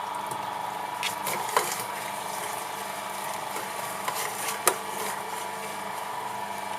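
An Optimum 400 juicer runs with a steady, even hum while peaches and sweet potato pass through, with a few faint clicks and knocks on top and no talking.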